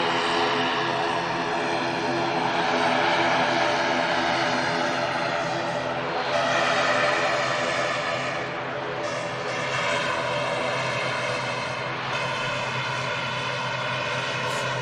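A Loganair propeller airliner departs Manchester Airport, its engines sending a loud, steady drone that swells and holds for the whole stretch, with no talk over it.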